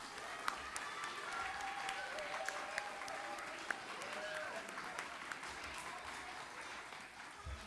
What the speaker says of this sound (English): Please give a big round of applause to our kindergartners